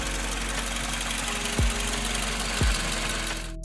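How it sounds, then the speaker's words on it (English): A steady engine idle with a low drone, broken by two brief knocking thuds spaced about a second apart, a rattle from a bad VVT solenoid. "you'll hear a rattling or ticking sound"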